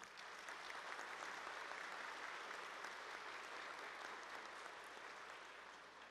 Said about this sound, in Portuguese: Nossas palmas também.